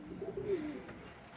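A Deshi Golla pigeon gives a single soft, low coo, fairly faint against a quiet background.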